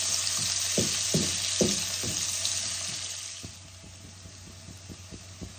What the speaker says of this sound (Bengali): একসাথে কাঁচা লঙ্কাটাও আমি দিয়ে দিলাম। ভালো করে লাল করে ভেজে নেব।